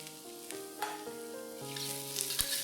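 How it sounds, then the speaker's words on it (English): Carrots hit hot oil in a wok for a stir-fry of shredded vegetables and glass noodles, giving a steady close sizzle that builds toward the end, with faint background tones underneath and no talking. "When the oil is hot, add in the carrots."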